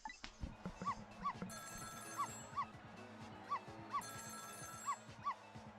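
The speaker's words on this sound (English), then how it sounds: "It was the sound of a telephone ringing, coming from the apartment next door." A telephone rings in the apartment next door in the video game Ghost Trick, several bright repeated ring bursts over a busy bed of yelping, dog-like game sounds.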